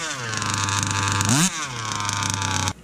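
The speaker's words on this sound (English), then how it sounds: "Now let's give it a go and hear the difference." A small two-stroke RC car engine buzzes at a high steady pitch while being tuned, briefly revving up and dropping back before cutting off abruptly near the end.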